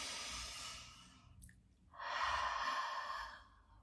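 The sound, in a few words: deep slow breathing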